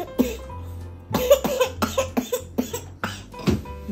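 A two-year-old girl with a cold coughs again and again, a run of harsh, close coughs in quick bursts with short gaps between them and no talk.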